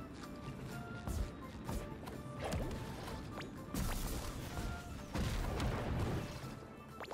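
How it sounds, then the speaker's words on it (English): Repeated heavy booms and crashing explosions from the game SpongeBob: The Cosmic Shake, bursting every second or so over busy background noise. "The explosions are what's scaring me."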